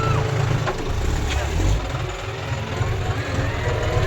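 A 50 hp tractor engine runs at full power, a loud, steady low rumble that holds throughout, with a brief swell partway through.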